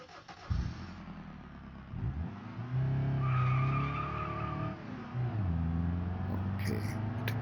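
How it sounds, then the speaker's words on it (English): Car engine in the BeamNG.drive driving game, a Corvette around Bled, Slovenia, revving and droning at rising and falling pitch with tire noise, moderately loud and steady. "Engine."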